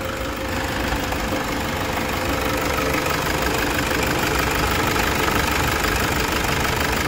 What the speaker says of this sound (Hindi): एक साथ टिक के इंजन चल रहा है, एकदम एक जगह टिक के चल रहा है